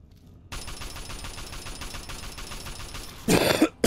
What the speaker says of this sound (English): So if you excuse the coughing